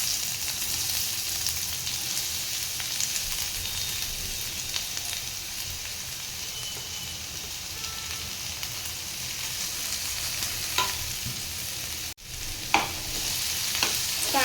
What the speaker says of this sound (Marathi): कांदा आहे तो तेलामध्ये छान परतून घ्यायचा आहे